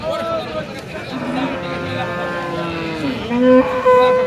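Cattle lowing at a large open-air cattle market in Rajshahi, Bangladesh, with loud crowd chatter and bustle around them and a few drawn-out moos rising near the end.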